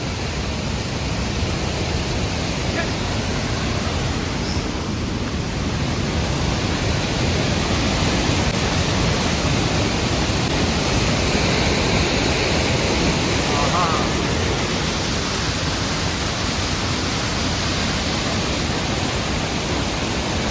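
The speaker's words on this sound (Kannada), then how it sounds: "ಬುಸ್ ಅಂತ ಹೋಗ್ತೈತೆ ನೀರು" Water rushes continuously at Hogenakkal falls, a dense, loud broadband roar that stays steady and unbroken for the whole stretch, close by.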